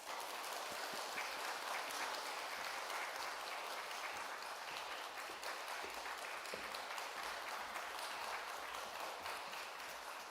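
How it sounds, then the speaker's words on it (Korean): A church congregation at a Sunday morning service claps to welcome a pastor, a faint, even, distant wash of applause held steady throughout. "우리 박수로 환영해 드리겠습니다."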